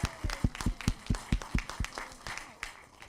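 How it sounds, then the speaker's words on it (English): Applause at a city council meeting, where a small group claps unevenly for a few seconds and the claps thin out toward the end, with no talk over it. "So one more time, we just give a round of applause to our wonderful committees."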